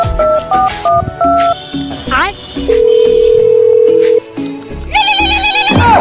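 A phone call is placed, with electronic tones and ringback beeps in steps, a long steady tone, and music-like phone sounds at the end, all loud and close.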